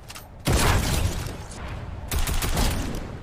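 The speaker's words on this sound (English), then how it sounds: "Oh, I shot somebody who was in the slipstream." Bursts of gunfire in the Fortnite video game, two loud rapid volleys at roughly half a second and two seconds, each trailing off with mechanical clatter and no talking.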